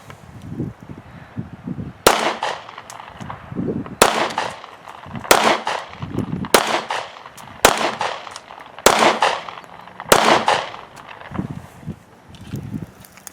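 Seven sharp, loud shots from a Smith & Wesson M&P Shield 9mm pistol fired at a range target, spaced roughly one to two seconds apart, each with a brief ringing tail.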